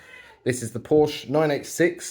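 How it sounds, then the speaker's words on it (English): A cat meows in the background indoors while someone talks about a 2003 Porsche 986 Boxster 2.7, its cries faint and mixed in under his speech. "You'll have to excuse the cat making noise in the background."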